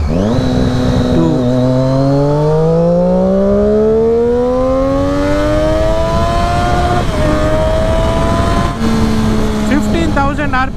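Triumph Daytona 675 motorcycle with a loud SC Project exhaust accelerating hard in second gear, engine note rising steadily toward redline, then a shift and renewed climb, loud and close with wind rush.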